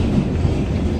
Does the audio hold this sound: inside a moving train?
yes